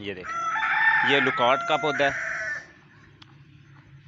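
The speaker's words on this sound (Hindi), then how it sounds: "ये पीछे मुर्गे हैं, आपको आवाज़ आ रही होगी" A rooster crows loudly and long from behind someone speaking Hindi, the call rising and breaking into a stretched cock-a-doodle-doo on a farm with hens.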